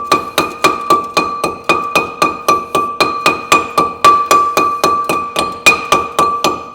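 Rapid, evenly spaced metallic hammer strikes ringing on a Peugeot 206 rear brake drum, loud and close, around four blows per second without pause.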